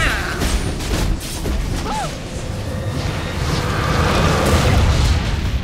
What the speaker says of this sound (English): Purple team's turret has been destroyed.